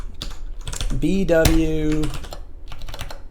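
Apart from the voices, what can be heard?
typing on a computer keyboard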